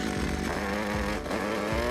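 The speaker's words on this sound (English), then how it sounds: "the auger hits no roots of any kind and goes down easy" A post hole auger drills into ground with no roots, a steady, close motor drone with a harsh buzzing tone, holding constant throughout with small periodic dips like an engine working under load.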